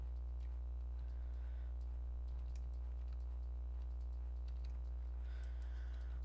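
Computer keyboard keys pressed in irregular bursts while gaming, faint and close under a steady low electrical hum, with no talking.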